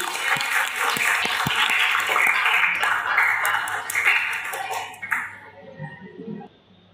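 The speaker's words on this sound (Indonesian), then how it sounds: "tepuk tangan buat kita semuanya" Students in a classroom clap their hands together in a dense, sustained burst of applause that tapers off and stops near the end.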